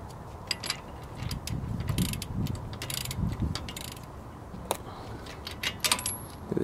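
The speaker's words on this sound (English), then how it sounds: "tighten them down with the ratchet" A ratchet tightening front brake caliper bolts during a wheel bearing job, quick clicking pawl bursts in irregular runs over a low mechanical rumble, close but quiet.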